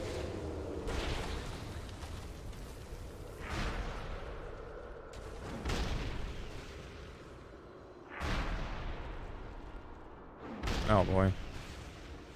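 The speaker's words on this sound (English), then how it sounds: "those cannons hurt" Cannons fire in a video game, several deep booms spaced a few seconds apart, loud and close, with a person talking between and over the blasts.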